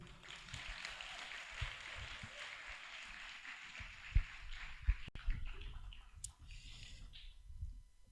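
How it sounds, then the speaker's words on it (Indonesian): Seminar audience on Quran memorization breaks into applause, a steady, moderately loud wash of clapping for about five seconds before thinning into scattered claps and room noise. "Tepuk tangan dulu buat saya."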